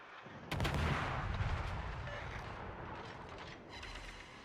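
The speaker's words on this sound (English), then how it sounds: "So I'm going to try and get some shells on that sub." Naval guns on a Gearing destroyer in a warship game fire at a submarine, a sudden loud salvo followed by rumbling booms and crackling shell bursts that slowly fade.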